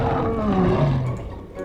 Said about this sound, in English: A literal lion.